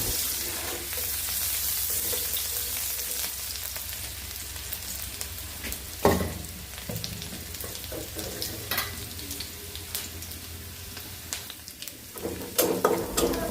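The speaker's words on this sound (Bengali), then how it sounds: "এখন হচ্ছে আমি পেঁয়াজ দিয়ে দিব পেঁয়াজটা একটু ভেজে" Onion frying in a pan after fried fish, for an eggplant and potato curry: a steady, close sizzle runs throughout, with occasional spatula scrapes and stirring knocks, louder bursts near the end.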